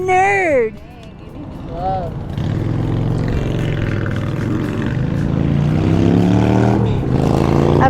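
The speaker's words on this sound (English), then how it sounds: "That bike sounds good though" Motorcycle engine at a crowded bike fest, a steady low rumble with rising harmonic whine building over several seconds, fairly near, with people chattering over it.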